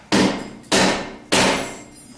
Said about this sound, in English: this dead blow hammer is pretty light.